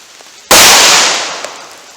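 One loud, sharp gunshot from a .38 Special revolver firing a Buffalo Bore 158 grain +P load into wood, with a sudden crack followed by a decaying outdoor echo.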